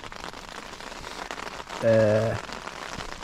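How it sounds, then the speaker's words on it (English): Rain patters steadily on a new tent while wild camping in Sweden, a constant close crackling hiss on the fabric, with a voice briefly speaking over it. "I can hear it starts to rain"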